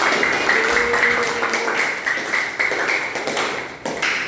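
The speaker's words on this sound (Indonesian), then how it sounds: "kalau bisa tepuk tangan buat kita hari ini" A school class claps together in a dense patter of hand claps, steady for a few seconds with a brief dip near the end, no talking.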